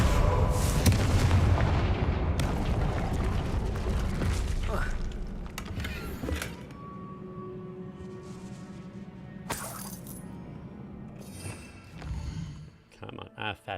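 In Hogwarts Legacy, a Confringo blasting spell goes off in booming bursts with crashing debris, followed by fainter magical effects and scattered impacts, while a voice talks over the game.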